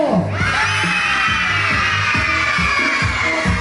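A loud festival concert crowd screams and cheers continuously during a bachata show, with a steady roar of high voices and a thumping beat underneath.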